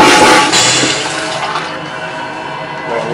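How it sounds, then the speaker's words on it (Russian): A toilet flushing aboard a double-decker passenger train: a loud, close rush of water that swells at once and then gradually settles into a steady gurgling drain. "Кнопка смыва."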